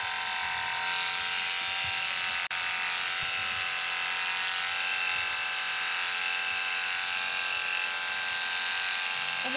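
Electric clippers buzz steadily as they clip half of a horse's head along the jawline, a close, constant high-pitched whir with one brief click partway through.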